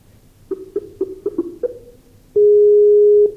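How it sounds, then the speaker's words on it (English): Telephone call tones while redialing during a live online Q&A: a quick series of short dialing beeps, then a loud, sustained steady tone lasting about a second, with no talk. "Look, we're now ringing him."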